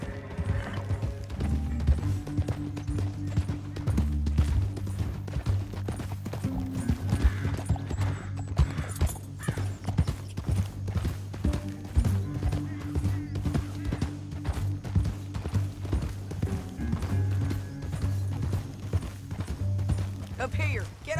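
Horse hooves pounding in a steady clip-clop in the Western game Red Dead Redemption 2, a continuous rhythmic gallop under tack rattle and a low musical drone, with voices speaking over it.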